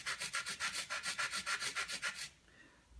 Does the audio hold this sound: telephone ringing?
no